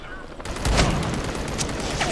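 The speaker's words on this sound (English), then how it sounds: "A shotgun." Shotgun fire in the VR game Planet of the Apes, a loud close burst of blasts with rattling echoes, and a voice speaks briefly over the din.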